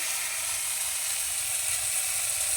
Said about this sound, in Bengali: মশলার সঙ্গে টমেটোটাকে আমি ভেজে নিয়েছি। এখন এখানে দিয়ে দেবো